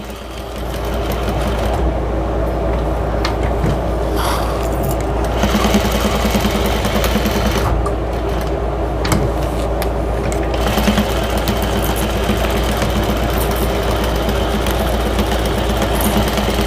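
A sewing machine runs at a steady whirring clatter while stitching a drying mat chicken basket, loud and close, with short pauses and restarts between runs of stitches.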